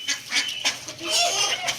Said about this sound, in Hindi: बतखे और मुर्गियाँ ईगल की कलेजियाँ खा रही हैं